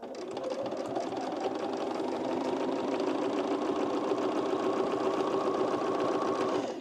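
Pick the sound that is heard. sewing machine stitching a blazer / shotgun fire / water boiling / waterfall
sewing machine stitching a blazer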